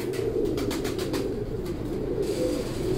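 Pigeons in Gujranwala coo steadily and close by, low throaty calls overlapping throughout with a few faint chirps and wing flutters above them.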